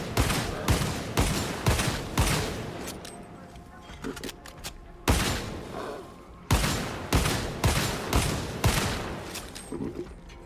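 Repeated phosphor pistol shots in a video game: sharp, loud reports in bursts, about a dozen over ten seconds with a short lull in the middle, alongside game effects.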